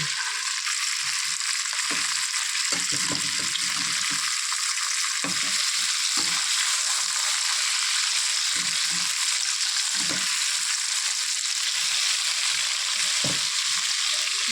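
Tandoori chicken legs fry in a little oil with a steady, loud hiss and sizzle, broken by occasional soft knocks and stirring sounds, close up with no one speaking.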